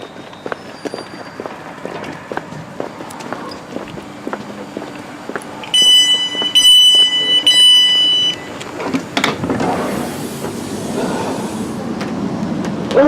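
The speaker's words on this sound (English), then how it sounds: "I'm going to hop on this now and get my train to Stafford" A London Midland train pulls away from a station platform, with wheel and rail noise building, a burst of high squeal from the wheels midway, and a steady rumble as it gathers speed, with no talking.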